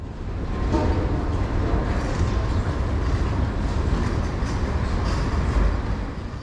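Rumbling Bernina Express train noise fills Chur railway station, a steady low roar of rolling stock with faint rhythmic clatter, close and continuous.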